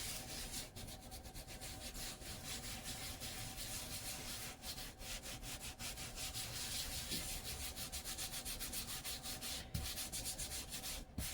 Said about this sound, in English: You want to roll it out so it will fit in your pie pan.